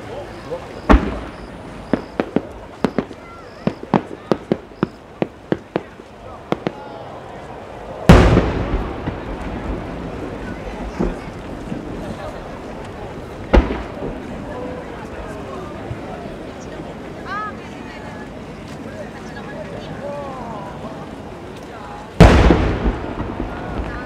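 Fireworks at the Omagari fireworks festival in 2018, by a Nagano fireworks maker: a rapid string of sharp pops, then several loud booming bursts spaced apart, with crowd voices and chatter in between.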